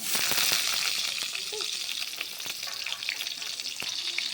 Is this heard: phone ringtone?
no